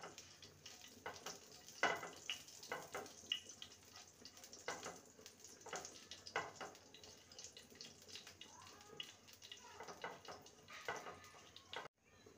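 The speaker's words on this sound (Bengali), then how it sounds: "ফোড়নে দেবো 1/2 টিস্পুন কালো জিরে আর একটা গোটা শুকনো লঙ্কা" Half a teaspoon of black cumin and one whole dried chilli frying in well-heated oil give a soft, steady sizzle with scattered faint crackles, quiet throughout with no voices.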